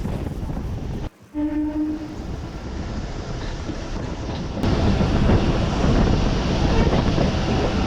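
The Narasapur MEMU Express 17269 rolls along with a steady rumble and wind buffeting, a short horn tone sounding near the start and the roar growing louder partway through.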